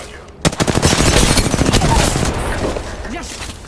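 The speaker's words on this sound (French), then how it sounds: "Je lance une grenade frag." Rapid gunfire bursts in the video game Apex Legends, a loud, dense string of close shots lasting about three seconds, with a frag grenade thrown as part of the action.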